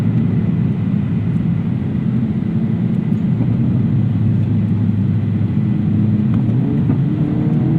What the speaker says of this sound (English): not too loud of an engine, even with this exhaust